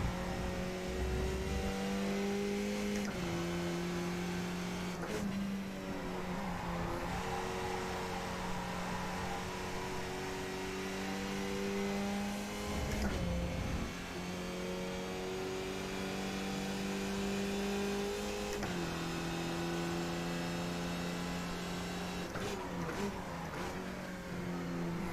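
A race car engine in the iRacing sim screams through repeated upshifts and throttle lifts. It is loud, steady and close, with brief dips where the driver brakes for corners and a chicane. No voices are heard.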